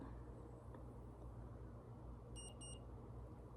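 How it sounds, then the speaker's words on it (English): Two short electronic beeps from an Omnipod insulin pump sound in quick succession over a quiet, low hum. "I gotta stick it in the pump to put the insulin in here. It's gonna beep."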